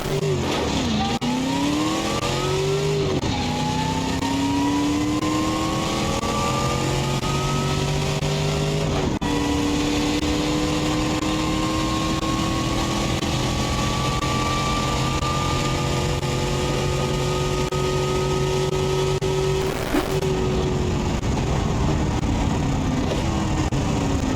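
A Brutta Grander car with a 6.5-liter V8 and 5-speed automatic in BeamNG.drive revs and accelerates steadily, its loud engine whine climbing through several gear shifts over a long continuous run, with some tire noise.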